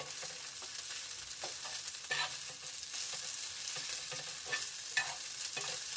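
Paneer fried rice stir-fried in a pan with a couple of spoons of oil, a steady close sizzle broken by repeated scraping and tossing strokes of a spatula, with no voices.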